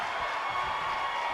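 Crowd in a WWE 2K19 wrestling video game, a steady wash of cheering and roar from a large arena audience, continuous and fairly loud with no gaps.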